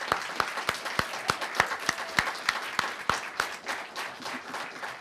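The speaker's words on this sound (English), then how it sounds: "I would like to give them a round of applause for making that decision" An audience at a school district board special meeting applauds the board's decision to keep masks optional, with sharp, separate claps ringing out over a steady patter, fairly loud and continuous throughout.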